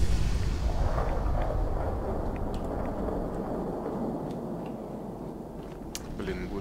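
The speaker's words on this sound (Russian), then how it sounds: "Блин, буря совсем не кстати." A thunderstorm rumbles in the Fallout 4 video game as a heavy, continuous roar of wind and deep thunder that gradually eases, with faint crackles near the end.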